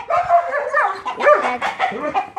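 A dog barks and yips close by in a quick, excited run of sharp barks mixed with whimpering, loud and alone without talk.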